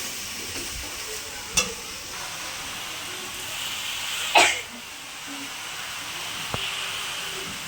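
Vegetables and Malabar spinach being sautéed in a pan for a vegetable dal, giving a low steady sizzle under a few brief clattering scrapes and clinks of the spoon, close and fairly quiet.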